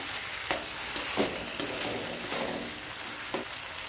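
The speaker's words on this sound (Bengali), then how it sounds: "সমস্ত মশলা নেড়ে ভালো করে কষিয়ে নিতে হবে" Spices, chopped tomato and Kashmiri chilli powder stir-fry in a pan with a soft, steady sizzle, punctuated by several sharp scrapes and taps of a spatula against the pan.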